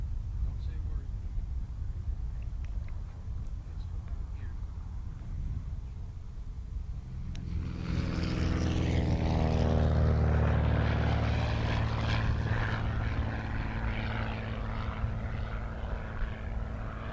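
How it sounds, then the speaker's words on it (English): A banner-towing propeller plane taxiing onto a runway, its engine drone swelling from faint to a loud, rising buzz that peaks midway and then lingers steadily, heard at moderate distance. "The banner plane is taxiing out onto the runway now."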